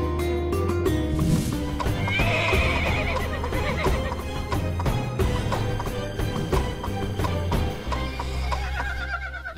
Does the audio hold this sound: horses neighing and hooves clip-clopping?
yes